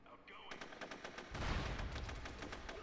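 Rapid AK rifle fire rattles in quick repeated bursts during a SOCOM 2 online match, fairly faint in the mix, with a voice briefly audible beforehand.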